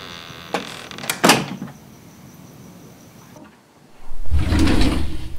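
A wooden lake-house door is handled in a horror setting, with a couple of sharp knocks and a creaking scrape, a pause, then a louder rumbling bump as it swings and closes nearby.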